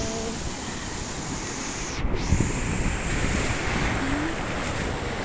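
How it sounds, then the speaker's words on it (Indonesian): Big ocean waves at Cemara Sewu beach in Tulungagung, East Java, surging and crashing in a loud continuous roar, with a swelling break near the middle and wind buffeting the microphone. "Gelombangnya tuh besar banget, jadi aku nggak berani ke depan-depan"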